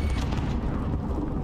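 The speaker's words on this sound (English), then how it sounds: "Throwing grenade!" A grenade explodes in Call of Duty: Warzone, producing a loud, dense, low rumbling boom that fills the whole short moment without letting up.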